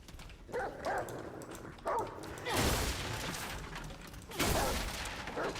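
A dog companion in Remnant: From the Ashes gives several short barks and yips, with low whimpering sounds between them, fairly quiet under game background noise.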